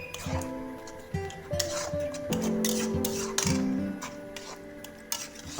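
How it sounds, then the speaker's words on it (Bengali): Spices with turmeric, chilli, cumin and coriander powder stirred in a pan for chicken curry: steady close scraping and rubbing of a spatula on metal with occasional clinks and a faint tonal hum underneath, no talk. "হালকাভাবে নেড়ে চেড়ে দেখে নিচ্ছি"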